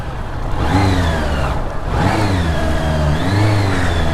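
An engine on a vehicle ridden through narrow, unpaved alleys inside the Jaisalmer fort, with the rear tire slipping: loud and close, revving up and easing off repeatedly and steadily.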